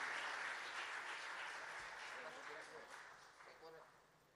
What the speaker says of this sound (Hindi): तालियों से स्वागत करिए